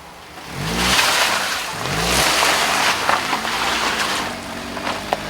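A 2014 Nissan Rogue climbs a sheer-ice incline, its engine revving in rising sweeps over broadband tyre and wind noise, steady and fairly close throughout with a few brief knocks toward the end.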